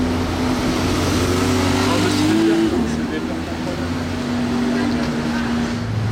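A powerful sports car engine roars steadily and its pitch climbs briefly as it accelerates, with a continuous low rumble and faint voices in the background, on a street in Monaco.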